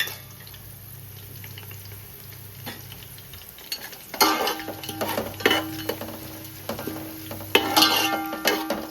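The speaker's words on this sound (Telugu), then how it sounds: "ఉల్లిపాయ వేగేలోపు ఈ దినుసులు కూడా వేగేయండి, దోరగా వేగేయండి." Whole spices and onions frying in a pan for coconut milk chicken biryani, a steady sizzle with bursts of stirring and scraping that grow louder midway.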